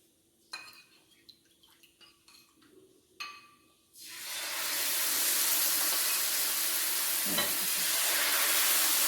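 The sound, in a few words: rice flour ghavne batter sizzling on a hot pan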